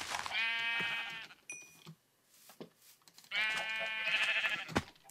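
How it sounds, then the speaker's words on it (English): A sheep in the video game Minecraft bleats twice, each cry loud, wavering and close, with a short quiet gap and a few small clicks between them. "Oh, freaking sheep, you scared me"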